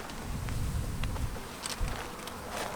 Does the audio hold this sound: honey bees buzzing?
yes